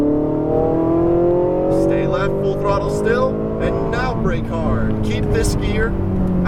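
A Ferrari 488 GTB engine accelerates hard on a racetrack, its loud rising note climbing steadily, while an instructor talks over it throughout.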